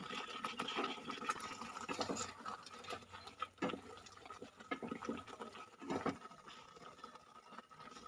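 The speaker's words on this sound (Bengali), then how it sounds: "দিয়ে দেবো সামান্য পরিমাণে জল, দিয়ে ফুটিয়ে নেব" Water is poured into a spinach and paneer curry in a pan, making a faint, continuous splashing and gurgling with small scraping sounds and no talking.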